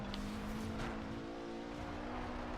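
An Alfa Romeo Giulietta in the racing game Forza Horizon 2 accelerates with a steady, moderately faint four-cylinder engine drone holding a constant pitch throughout.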